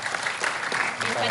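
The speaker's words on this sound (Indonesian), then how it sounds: "Kita berikan tepuk tangan." Audience applause at an Indonesian political event hosted by the Perindo party, steady clapping over 1.3 seconds with crowd voices mixed in.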